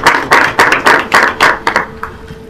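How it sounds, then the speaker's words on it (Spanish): A small group claps in short bursts at a rural development panel event, several sharp rounds of hand claps that thin out and fade after about two seconds. "Un fuerte aplauso"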